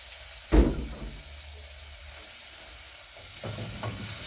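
Cooking oil hitting a pan for preparing greens, a sharp initial clatter and burst of sizzle followed by a low steady frying hiss with a few later stirring sounds, close and alone.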